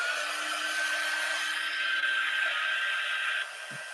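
A hair dryer blows steadily on acrylic paint to half-dry it, a constant whirring hiss that stays even for several seconds, then drops slightly in level near the end; no talking.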